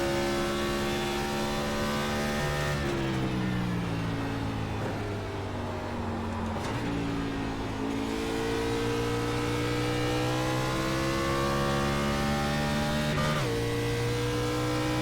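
Race car engine lapping Gateway raceway in the iRacing sim, a loud continuous high-revving drone with clear harmonics that dips through gear shifts and climbs again, no voices over it.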